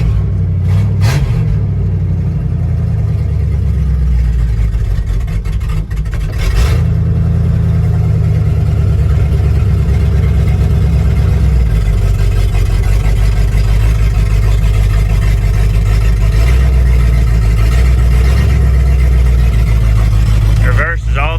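An old 1955 Buick V8 rumbles steadily at idle, loud and close, a deep continuous drone with a few sharp mechanical knocks over it.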